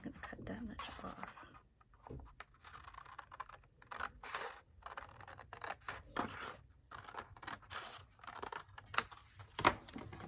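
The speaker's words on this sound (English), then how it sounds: "So I'm going to cut that much off." Scissors snip through paper while a travelers notebook pocket is trimmed, several short crisp cuts scattered among tapping and handling noises, with a dog whimpering faintly nearby and a person talking quietly at times.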